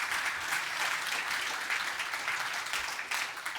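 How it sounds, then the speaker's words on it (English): Steady audience applause fills the space, dense and continuous clapping from a crowd at a corporate HR talk event, holding at an even level throughout with no voices on top. "Yeah, that's worth of applause."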